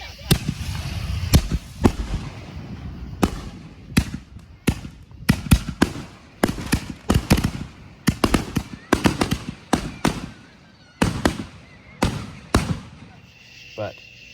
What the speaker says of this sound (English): we went and celebrated 4th of July with our family and shot a bunch of fireworks